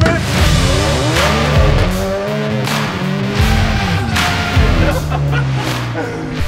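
An Audi TT Cup race car makes a short run around a yard, its engine revving hard and rising and falling through gear changes, loud and close with tire noise.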